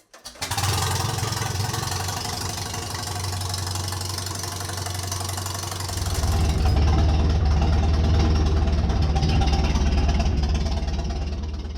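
1935 Farmall F-20 tractor engine turning over and settling into a steady, loud idle with an uneven, knocking chug, getting louder and heavier partway through.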